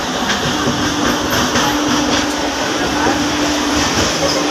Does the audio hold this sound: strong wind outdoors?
no